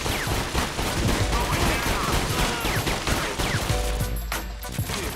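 Rifle fire in the video game 50 Cent: Bulletproof: dense, loud, continuous shooting with overlapping shots and game sound effects, a sustained barrage that eases slightly near the end, with faint voices mixed in.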